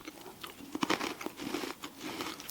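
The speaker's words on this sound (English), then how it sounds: "I'm sure you can hear the crunch." Salty potato snack chips bitten and chewed close up, a few quiet crisp crunches in quick irregular bursts, faint and without talk.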